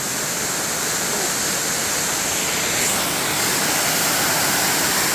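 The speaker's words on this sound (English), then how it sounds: "sitting here on the Shotover River" Loud, steady rushing of the Shotover River, heard from a lookout near a tunnel track, forms a continuous broadband roar of whitewater with no break and no voices.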